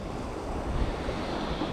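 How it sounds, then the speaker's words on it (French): Strong wind buffets the microphone at the sea during lure fishing, a steady dense roar mixed with surf and water noise, loud and continuous with no voices. "il y a tellement de vent"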